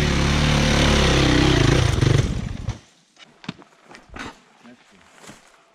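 A KTM 525 EXC dirt bike engine roars loud and close on a dusty ride, then cuts off abruptly, leaving scattered knocks and rustles while voices talk over the motor.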